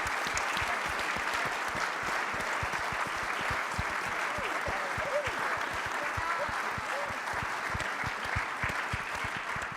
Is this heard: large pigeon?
no